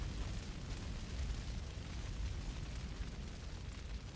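Fire burns in the Far Cry 3 video game as a continuous, dense roaring rush with a deep rumbling low end, steady and unbroken throughout.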